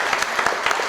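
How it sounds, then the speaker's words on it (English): A short burst of audience clapping at a mono acting festival in the Chandler Theatre, with several distinct claps in a quick, uneven patter from a nearby crowd. "As they step up, please applaud them."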